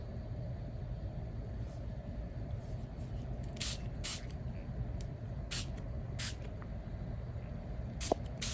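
Water is sprayed onto semi-sized burnt sienna Xuan paper in several short, crisp hissing bursts, spaced irregularly over a low steady background hum.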